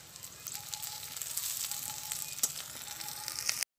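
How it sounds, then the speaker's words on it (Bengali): Washed winter khesari (grass pea) greens fry in oil, cooked village-style, giving a steady bright sizzle with faint crackles and a few sharper pops throughout. "ওই তেলের মধ্যেই শাকটা আমি ভালো করে ধুয়ে নিয়েছি, সেই শাকটা ভেজে নেব।"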